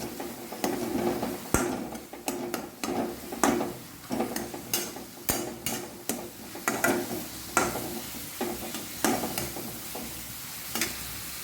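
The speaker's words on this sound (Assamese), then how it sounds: "এতিয়া এইখিনি লৰাই আছোঁ।" A spoon stirs ground clove, cinnamon, pepper and Kashmiri chilli into a sizzling pigeon meat curry, scraping the pot in a steady rhythm about twice a second over a constant fry.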